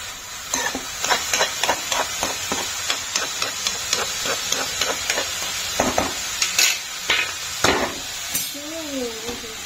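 Radish greens fry and get stirred in a pan, a steady sizzle broken by repeated scraping clacks of the spatula, close and fairly loud, with a brief voice or tonal sound near the end.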